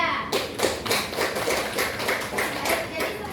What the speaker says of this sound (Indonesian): beri tepuk tangan kepada Rida.